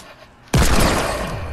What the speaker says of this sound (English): Eliminate with the hand cannon.